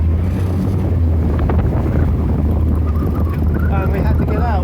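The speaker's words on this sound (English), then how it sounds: "It's the wind." Strong wind roars over the microphone on a sailboat at sea, a loud continuous buffeting rush mixed with the wash of waves against the hull, with no break.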